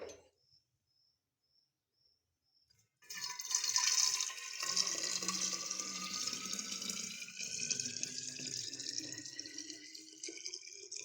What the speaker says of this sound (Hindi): तो मैं इसे बोतल में भर लूँगी।